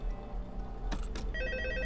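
A phone ringing in the horror video game Five Nights at Freddy's 2, a short electronic ring tone rising over a low hum, faint and alone.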